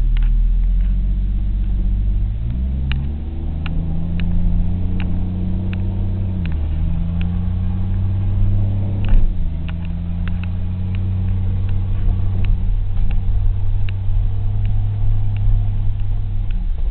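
A car engine drones loudly and steadily in third gear while driving, its pitch dipping and rising a few times as the revs shift, with no speech.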